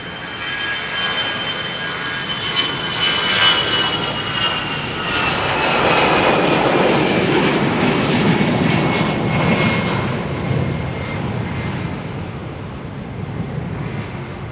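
A Brussels Airlines jet in Icon livery passes at London Heathrow, its engine roar building to a loud, close peak mid-pass with a high whine on top, then fading away.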